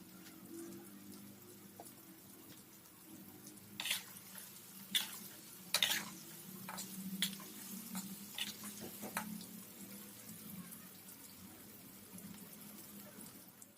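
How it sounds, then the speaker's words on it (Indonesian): Steady low bubbling of chicken deep frying in hot oil, with occasional sharp clinks and scrapes of a utensil stirring in the pan, fairly quiet and close. "ini kita goreng sampai warnanya kuning keemasan"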